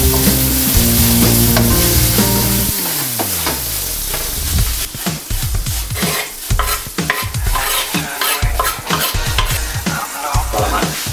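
Garlic and onion frying for arroz a banda: a loud, close sizzle after an opening stretch of music, with rapid spoon stirring and scraping in an irregular rhythm.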